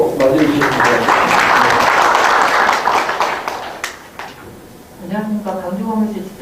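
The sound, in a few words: audience applause welcoming a speaker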